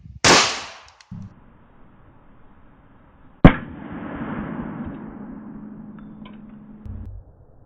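A handgun is fired at a Swiss M1918 steel helmet: two sharp, loud cracks a few seconds apart, the second followed by a lingering ringing metallic decay, with small handling noises between them.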